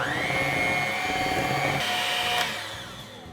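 An electric mixer whirs steadily at full speed through cream cheese frosting for cinnamon rolls, then winds down and stops after about two and a half seconds. It is close and loud and plays without speech.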